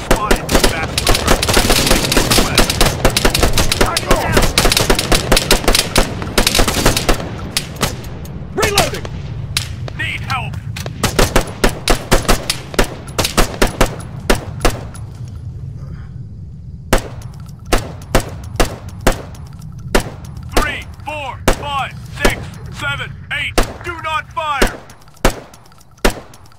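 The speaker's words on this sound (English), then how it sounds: "Fire at will." Rifle and machine-gun fire in a night-time video game ambush on a hilltop, starting as dense continuous bursts, then thinning into scattered loud shots and short volleys with voices calling out between them.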